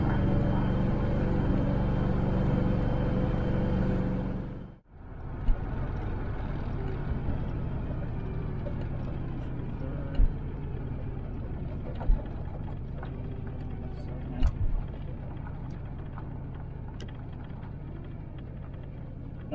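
A 1983 Cutlass Supreme Hurst/Olds, driven for the first time after sitting twelve years, gives a steady loud engine rumble and road roar throughout, with a brief dropout near five seconds as it shifts gears, and a few sharp clicks over the drone.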